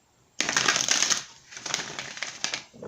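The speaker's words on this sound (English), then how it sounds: "So we're going to give this one more shuffle and see what we have." A deck of tarot cards is riffled and shuffled by hand, giving a close, crisp burst of papery flutter followed by a few softer shuffling passes.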